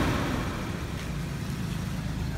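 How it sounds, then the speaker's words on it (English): A 1989 Toyota pickup engine runs steadily and loudly throughout, a continuous broadband rumble with a dense low-end drone that holds a fairly even level without clear rev peaks, heard up close. "I'll rev it up."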